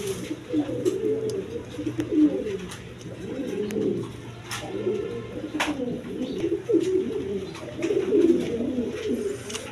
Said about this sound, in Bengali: দর্শকবৃন্দ এখানে এক পেয়ার ডেনিস কবুতর আছে, একদম রেড কালারের মধ্যে বিগ সাইজের